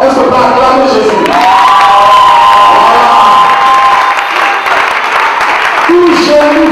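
A church congregation in Abidjan loudly cheering and acclaiming Jesus, a dense sustained crowd roar of shouts and cries with applause, close and overwhelming throughout, voices layered over one another.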